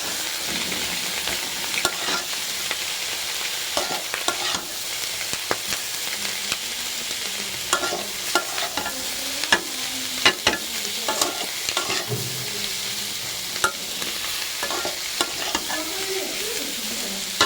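Carrot and green and yellow capsicum stir-fry in a pan, a steady close sizzle with frequent scrapes and clatters of the spatula as the vegetables are tossed.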